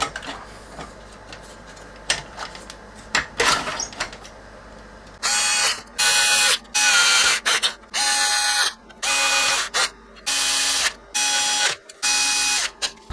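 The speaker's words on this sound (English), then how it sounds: "Do these screws up to fasten the brace into the main chassis." Power screwdriver driving screws to fasten the brace into the main chassis of a Revox reel-to-reel tape machine: a series of about eight loud, close whirring bursts with brief gaps, after quieter handling clicks.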